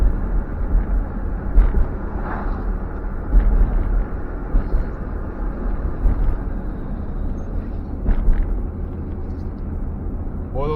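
A Chevrolet Suburban on a budget steering rebuild with new longer shocks, heard from inside as it drives over big bumps: a continuous road rumble with several dull thumps and jolts spread across the run.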